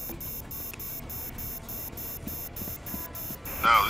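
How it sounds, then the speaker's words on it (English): Repeated electronic beeping in Rainbow Six Vegas 2, a regular chirping pattern over a busy game backdrop, with a brief louder burst at the end. "Oh god, why is it beeping?"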